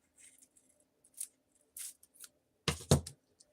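Scissors snip through craft material in several short, crisp cuts spaced over a few seconds, with a louder double snip near the end, close and clear in a quiet room with no talking.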